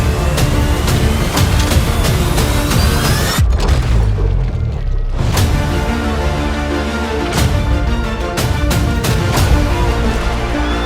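Rapid loud gunfire and booming shots fill a police shootout in Red Dead Redemption 2, the blasts dense and continuous with a brief lull partway through, and no voices.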